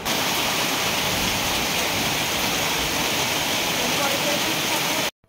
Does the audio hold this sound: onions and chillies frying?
no